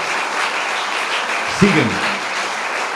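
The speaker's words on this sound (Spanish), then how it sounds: "Damos un aplauso al Señor" A church congregation claps in steady applause that fills the room, with a short burst of a voice speaking over it partway through.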